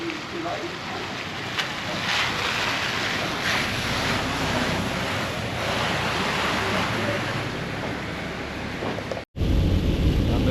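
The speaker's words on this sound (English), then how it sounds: "rain is back." Steady broadband hiss of heavy rain, loud and continuous, with a brief dropout near the end before the downpour noise returns.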